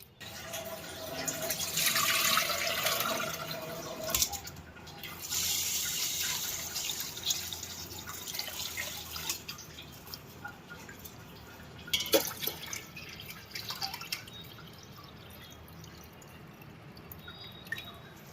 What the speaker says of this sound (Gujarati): ચોખા ધોઈને ફટાફટ પલાળી દેવાના